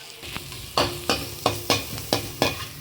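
Onions sautéing in a pan for an egg thokku, with a bright sizzle and six evenly spaced scraping stir strokes, close and fairly loud.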